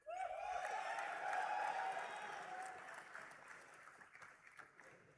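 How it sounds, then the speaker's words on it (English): An audience applauds at a convocation ceremony, a broad wash of clapping in a large hall that swells quickly, holds, then gradually thins out and fades. "Gadde Nityashri, claps please."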